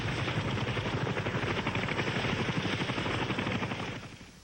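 Huey UH-1B gunship helicopter of the Navy Seawolf squadron in the Mekong, its rotor chopping in a steady loud rhythm close by for about four seconds before fading away at the end.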